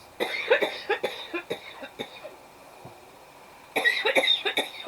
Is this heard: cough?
yes